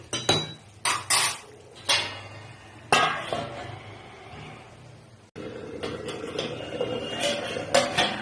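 A lid goes onto a pot of Bengali fish curry made with bori and eggplant. Several close metallic clanks and clinks ring out, followed by a steady low simmering hiss.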